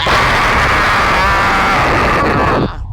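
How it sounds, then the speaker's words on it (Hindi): A woman's loud, sustained scream in a horror story, one continuous high wail lasting a few seconds before cutting off sharply into quieter noise. "औरत चीखने लगी"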